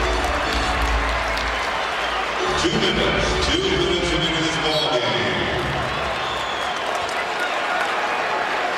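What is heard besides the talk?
basketball arena crowd cheering and applauding for Kobe Bryant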